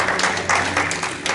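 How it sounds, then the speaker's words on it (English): Church congregation clapping during a Sunday Holy Communion service, a short burst of dense, fairly close applause with uneven overlapping claps. "You can only clap for them."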